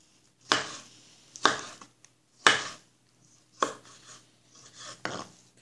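A knife chops onion and tomato on a cutting board for pizza toppings, giving about five sharp, separate knocks at uneven intervals with quiet pauses between them.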